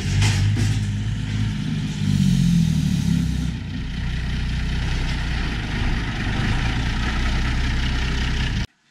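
A tractor engine, identified as a Bührer Super Six, idles steadily on a farm with a loud, low, even drone, swelling briefly as it revs before cutting off abruptly at the end.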